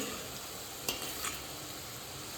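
Boondi, small droplets of gram flour batter, frying in hot oil: a faint, even sizzling hiss with one or two light taps, no one speaking.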